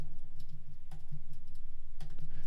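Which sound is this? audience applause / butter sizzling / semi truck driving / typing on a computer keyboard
typing on a computer keyboard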